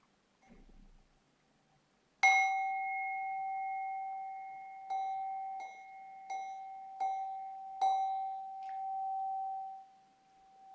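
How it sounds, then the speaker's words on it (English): Meditation bell closing a practice session: a clear ringing strike followed by several lighter strikes, each leaving a long, pure, sustained tone that decays slowly in a quiet room. "when you hear the bell, bringing the practice to a close"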